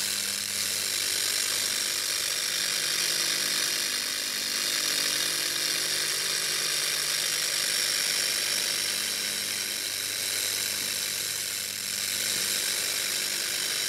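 A laser rust remover works through several coats of paint on metal, giving a steady, loud, broadband hiss and buzz with a faint mechanical hum beneath, continuous and unbroken from start to finish.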